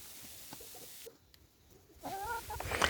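Free-range poultry chickens on a small farm cluck and murmur softly, with a louder burst of clucking near the end, fairly close but faint overall.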